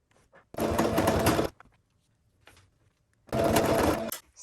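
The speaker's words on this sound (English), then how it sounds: "And then you can go ahead and sew the next side." A sewing machine stitching the side of a handbag made from a Gucci dust bag, two steady whirring runs of about a second each separated by a quiet pause with faint handling, close and clear.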